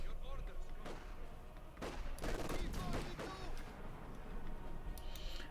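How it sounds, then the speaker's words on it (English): Light machine gun fire in the strategy game Company of Heroes 2, several loud rattling bursts and booming reports under continuous commentary. "pushing them back with some well-placed light machine gun fire"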